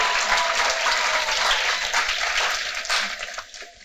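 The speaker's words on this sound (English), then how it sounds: "So please, everybody, give a round of applause for Dr." Dense applause from an audience at a professional training event, loud and steady for several seconds, then thinning out toward the end.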